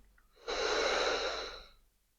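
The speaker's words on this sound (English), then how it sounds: "breathing in" One long, deep inhalation during a guided breathing exercise, close and clear, swelling and then fading out with no talk over it.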